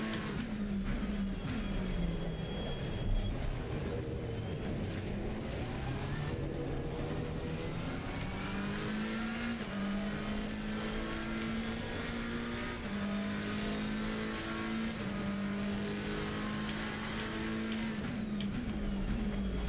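Racing car engines at the Red Bull Ring in Assetto Corsa Competizione, a continuous loud engine drone rising and falling in pitch through gear changes, with other cars audible nearby and no talking.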